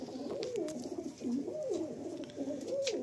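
An adult pigeon at a loft coos in a steady, repeating series of low, rising-and-falling calls, close and clear with no talking.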